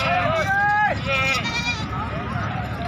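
Goats bleat repeatedly at a busy goat market where adult goats and kids are being sold, their rising, wavering cries loud and close over a constant murmur of crowd talk and traders' voices.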